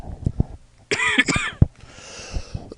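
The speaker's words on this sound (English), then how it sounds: "My coughing's getting worse" A person with a sore, burning throat coughs several times, a few short dry coughs followed by a harsher, rasping burst, close to the microphone.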